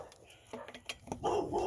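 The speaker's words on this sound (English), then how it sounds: "I wish this fucking dog would shut up." A dog barking nearby in a home garage, a few short yips and barks mixed with a man's speech, fairly close and moderately loud.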